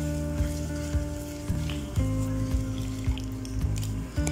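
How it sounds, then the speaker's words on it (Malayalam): Egg frying in a pan with turmeric and pepper for egg biryani, a close, continuous sizzle with a rhythmic series of soft stirring knocks roughly every half second and no speech. "അപ്പോൾ ഇതാ എഗ്ഗ് ഇവിടെ ഫ്രൈ ആയി വന്നിട്ടുണ്ട്."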